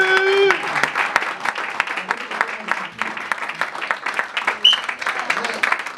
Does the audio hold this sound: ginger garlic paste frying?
no